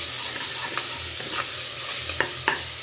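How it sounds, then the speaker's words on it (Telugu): Tomatoes frying in a pan with ginger garlic paste for a mutton leg paaya soup, a steady close sizzle broken by a few scraping stirs, no voices. "ఆఫ్టర్ మనం టమాటో అనేది వేసేసుకుందాం. ఇది కొంచెం మెత్తగా అయ్యే వరకు ఫ్రై చేసుకోవాలి."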